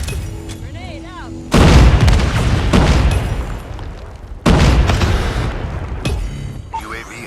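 Grenade blasts in Call of Duty Mobile during a ranked multiplayer match: two loud, sudden booming explosions a few seconds apart, each decaying into rumbling debris, with gunfire and game voice callouts around them.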